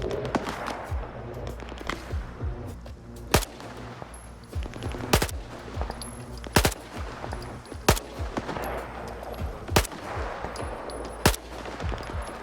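Gunfire in the video game S.T.A.L.K.E.R. 2: a series of sharp, loud shots spaced a second or so apart, with some quicker bursts and scattered distant shots between them.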